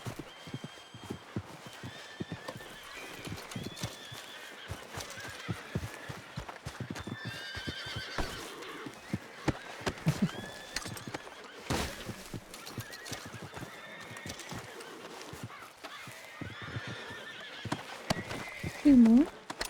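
Horses in the video game Red Dead Redemption 2, hooves clip-clopping through most of the stretch with a few whinnies and neighs, someone talking now and then over them.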